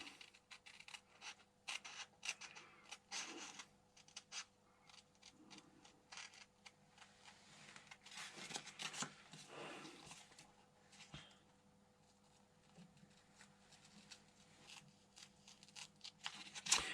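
Scissors snip pieces from a plastic model kit sheet for a Super Avante body, giving quiet scattered clicks and cuts at close range with no talking.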